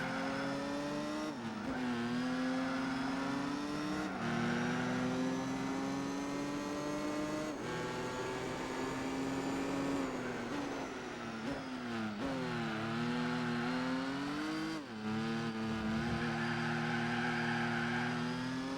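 Car engine in Gran Turismo 4 revving steadily as the car accelerates and turns, with a continuous close, loud engine drone whose pitch climbs, drops at gear shifts and climbs again, plus brief tire squeal.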